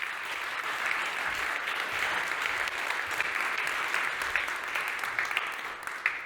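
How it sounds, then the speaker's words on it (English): A conference audience at the 13th Allianz Motor Day applauds steadily to welcome a speaker to the stage, a dense, even wash of clapping throughout with no voices. "And a big applause, stage is yours."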